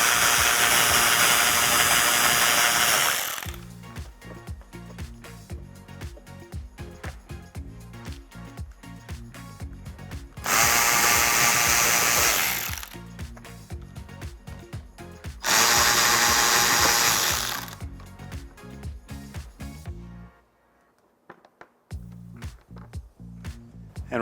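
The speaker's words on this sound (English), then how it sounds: "Using a Phillips head screwdriver," Power screwdriver removing rear bumper screws on a 2005-2009 Ford Mustang, three loud whirring bursts of a few seconds each separated by quieter clicking and handling noise, with no talk.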